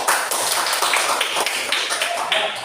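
A classroom of students claps for a classmate coming forward, a dense, steady patter of many hands filling the whole stretch at close range.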